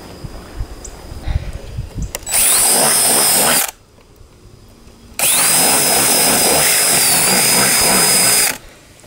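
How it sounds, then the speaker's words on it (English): A power drill fitted with a larger bit whines in two long, loud, steady bursts into a cricket watering container, separated by a brief pause. "Let's see, bigger drill bit."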